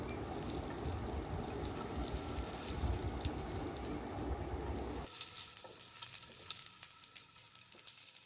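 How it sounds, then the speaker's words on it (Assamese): Dried fish sizzles faintly as it is stirred briefly in a pan for a pumpkin seed chutney. The hiss stays steady for several seconds, then drops to a sparse, quieter crackle. "সেইখিনি মই লৰাই চৰাই অলপ সময়ৰ কাৰণে ভাজি ল'ম।"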